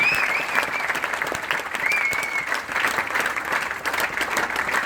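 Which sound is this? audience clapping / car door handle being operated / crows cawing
audience clapping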